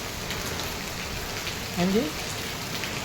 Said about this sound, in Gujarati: હા હા કેવો વરસાદ આવે છે?